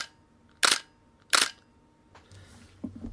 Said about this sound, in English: This is the D800 shutter